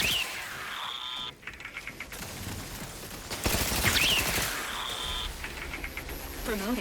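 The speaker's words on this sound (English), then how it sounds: "What is still shooting at me?" Turret gunfire in The Outer Worlds 2, bursts of rattling shots mixed with mechanical game effects and electronic tones, with voices heard over parts of it.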